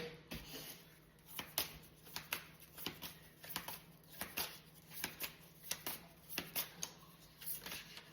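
Tarot cards being shuffled by hand for a three-card draw, a run of crisp riffling bursts in a steady rhythm, close and fairly quiet, with no talking.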